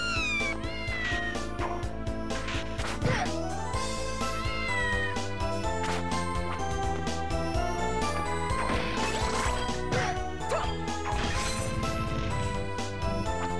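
A cat meows repeatedly in a video game, its cries rising over a dense, loud musical backing with occasional crashing hits.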